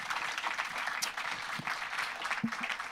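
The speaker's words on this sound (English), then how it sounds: "Let's give them a round of applause." An audience at a science panel event on military medicine claps for the panelists, a soft, steady patter of applause heard from a distance.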